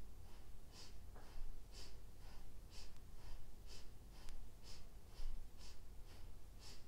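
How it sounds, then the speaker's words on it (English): Rhythmic inhaling and exhaling during a yoga set for the spine, a rapid even series of short, sharp breaths repeating roughly twice per second, faint beneath a steady hissy background. "Inhale, exhale."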